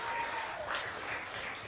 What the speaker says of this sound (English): A round of applause for all debaters